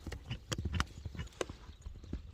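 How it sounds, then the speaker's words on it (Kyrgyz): A horse gallops off with quick, uneven clip-clop hoofbeats, faint and somewhat distant, over a low rumbling background. "Мынакей туугандар, көрдүңүздөр, ат кетти."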